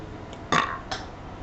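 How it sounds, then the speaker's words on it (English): A five-year-old girl burps the alphabet, giving one short, close burp followed by a weaker second one a moment later, then quiet, with no speech. "Today she's going to burp the ABCs."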